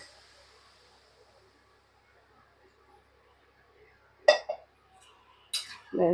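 A lid set over a pot of boiling vegetables for Bengali sukto, a few short metallic clinks and clatters near the end after a long near-silent stretch, close and brief.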